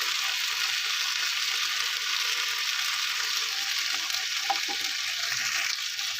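Pieces of rohu fish frying in hot oil with turmeric and chili powder, a steady close sizzle with faint scrapes of stirring, no talking.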